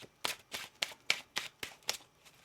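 A deck of tarot cards is shuffled by hand in a quiet room, giving about eight quick, crisp riffling bursts in a steady rhythm, close and fairly soft.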